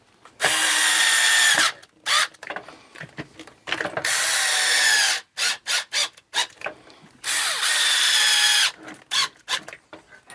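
A cordless power drill drives four screws into a pressure washer during assembly, with several loud sustained whirring runs separated by short ratcheting clicks and brief bursts, close and alone.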